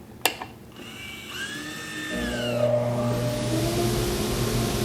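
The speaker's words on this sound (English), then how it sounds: "The dust collector will come on, and the blast gate will open for us automatically." An automated iVac dust collector in a woodworking shop starts up: a sharp click, a brief whining tone, then a motor spins up into a loud, steady roaring whoosh of airflow that holds to the end, close by with no talking.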